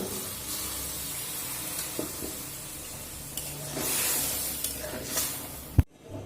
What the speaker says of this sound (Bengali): দেখুন ডালটা ফুটে গেছে